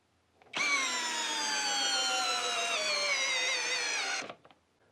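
A Hyper Tough 12-volt brushless drill/driver runs a single sustained burst of about four seconds under load during a torque test, loud and steady with a slowly dropping whine, then stops, with no talking.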